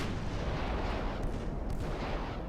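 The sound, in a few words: torpedoes launching from warships in video game Ultimate Admiral: Dreadnoughts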